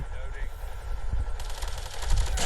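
Automatic weapon fire from a favourite gun in Call of Duty Mobile, a dense rapid burst starting partway through over a steady game soundscape, fairly loud and close.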